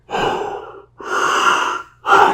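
A man imitates the deep, heavy breathing of a scuba diver, three long rasping breaths close to the microphone with short silent gaps between them.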